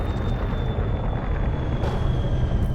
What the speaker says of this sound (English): Landing gear deployed.